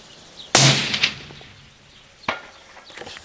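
Rifle shots from a Springfield Armory 2020 Heatseeker at long range: a sharp crack rings off a steel target, followed by a second fainter report with a short ringing tail, outdoors with quiet pauses between.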